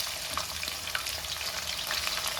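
Chopped onions hitting hot oil spiced with cumin, cinnamon and cardamom, giving a brief, close, continuous crackling sizzle with no voices.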